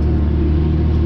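Steady, loud low rumble of a 673 HP Fendt 1167 tractor engine pulling a tillage implement through a field in fall, droning continuously without a break.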